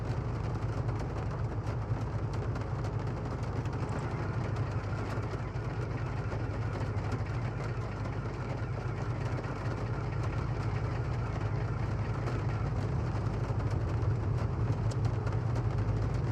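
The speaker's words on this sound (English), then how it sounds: "Left engine started." Left engine of a light aircraft in Microsoft Flight Simulator 2024 running steadily after start-up, a continuous low droning rumble at a constant level throughout with no voices.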